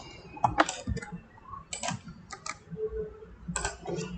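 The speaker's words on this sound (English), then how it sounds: "You can actually see how I'm literally typing everything out" Keys clack on a computer keyboard in short irregular bursts of typing, quiet and close, separated by brief pauses.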